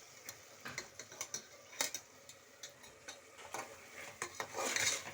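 Food stirred and mixed in a pot while curry cooks at home, with a string of light, even ticks and clinks from a spoon against the pan, quiet throughout and ending in a louder scrape.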